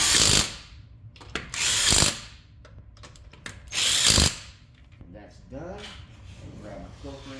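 A power tool drives on a lug nut during a tire change, giving three loud whirring bursts with clicking ratchet sounds between them, close up, followed by a person talking.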